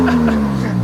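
A 2026 Dodge Charger revs up close with loud exhaust pops and bangs, a steady low engine drone filling the short burst.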